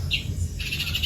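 A small baby bird chirping close by, two thin high-pitched peeping calls over a low steady background hum.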